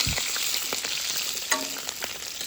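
Food sizzling and crackling steadily in a frying pan, with occasional pops and a stirring scrape, loud and close with no talking.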